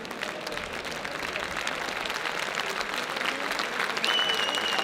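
A crowd applauds steadily throughout at a women's fencing bout, dense clapping holding at an even level with a brief faint tone near the end.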